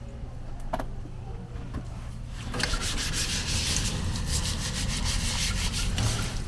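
Steady scrubbing with a scrubber while cleaning up at a campsite in the Canadian Rockies, a continuous rough rubbing that starts partway through and keeps going alone after a few faint knocks.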